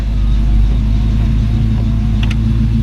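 1937 Ford two-door club coupe street rod with a 351 Windsor V8 idling loudly and steadily with a deep, throaty rumble, heard up close, with a brief faint clicking near the end.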